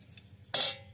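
A single close metallic scrape as a utensil stirs tempering of dry red chillies and curry leaves into rice in a pot, a brief bright clatter after a quiet start.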